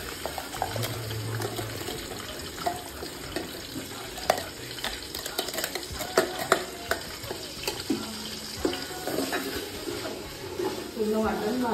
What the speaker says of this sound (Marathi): पूर्ण वाटण भाजून घ्यायचं आहे